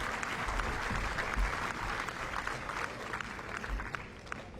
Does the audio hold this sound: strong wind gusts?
no